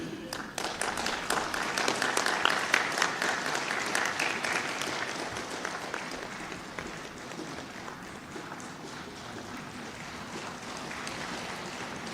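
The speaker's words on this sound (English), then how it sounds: "Let us applaud the occasion." Sustained audience applause at an inauguration ceremony where the President of India virtually opens four projects, a dense wash of many hands clapping that holds steady for about twelve seconds and eases slightly toward the end.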